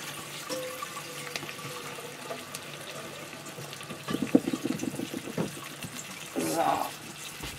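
Tap water runs into a cooking pot in a home kitchen with an induction hob, a soft stream rising to louder splashing bursts near the end, with quiet background sounds between.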